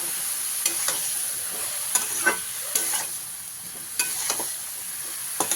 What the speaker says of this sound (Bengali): পরিমাণ মতো লবণ দিয়ে দিলাম হলুদ দিলাম এক চামচ দিয়ে ভালো করে মিশিয়ে নেব